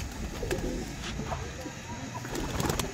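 Pet house pigeons cooing softly while some land and others go inside, low repeated coos set against steady outdoor background noise, with a voice faintly present.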